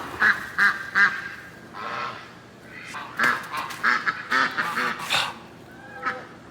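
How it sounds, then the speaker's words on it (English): A flock of about 15 ducks quacking and geese honking in a run of short, loud calls with brief pauses, close by and without talk. "we got 15 geese and ducks"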